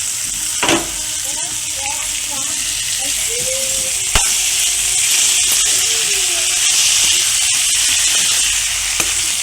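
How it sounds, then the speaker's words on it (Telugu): Tomatoes frying in spiced chili oil for an Andhra-style egg curry, giving a steady close sizzle and hiss throughout, with a few faint clinks and a sharp tap near the middle; a voice is heard in the background. "టొమాటోస్ యాడ్ చేసుకొని టొమాటోస్ మగ్గేంత వరకు మనం ఫ్రై చేసుకుంటూ ఉండాలి."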